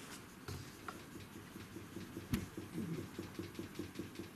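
Rapid sketchy pen strokes scratch across paper in a steady run of short, close scrapes, fairly faint with a few sharper ticks.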